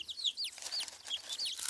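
Hens cluck repeatedly as they are fed, a busy run of overlapping bird calls at moderate loudness with no talk over them.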